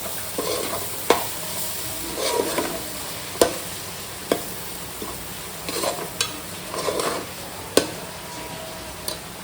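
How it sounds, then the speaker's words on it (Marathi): Grated coconut stirred into steamed wild vegetable greens in a pan, a soft continuous sizzle punctuated by sharp, evenly spaced taps and scrapes of the spoon against the pan. "हे जे एक वाटी आपण जे खोबरं किसून घेतलं होतं ना तर ते त्यामध्ये चांगलं मिश्रित करून घ्यायचं आहे"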